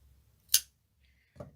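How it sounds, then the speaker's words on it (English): Crochet yarn on a Grinch face appliqué snipped with scissors, one sharp close snip followed by a softer second snip in an otherwise quiet room. "So we just weave it in and pull it through and go back one like that, and then cut your yarn."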